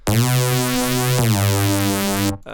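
A thick, buzzing Reese bass synth note with a phasing, detuned wobble, held loud for about two seconds, retriggered once midway, then cut off.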